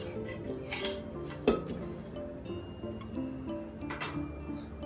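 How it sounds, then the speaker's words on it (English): Kale and ginger go into a mixing bowl with faint, scattered clinks and soft knocks of utensils and dishware in a quiet kitchen, including one sharper tap. "We'll put all of this into the mixing bowl."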